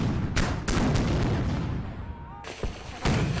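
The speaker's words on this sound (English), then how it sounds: "At this distance, cannon can be fired with accuracy into the city." British cannon fire during the siege of Charleston comes as repeated deep booms and cracks over a rumbling background of battle, with several shots in quick succession.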